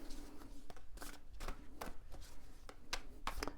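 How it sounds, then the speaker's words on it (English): Tarot cards tumbling and slapping together, a run of quick papery flicks and soft thumps spread unevenly over a few seconds, close but fairly quiet. "dropping the cards everywhere"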